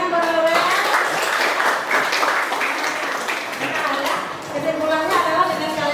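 A classroom gives a student a round of applause: a few seconds of close, scattered clapping from a small group, with voices speaking over it.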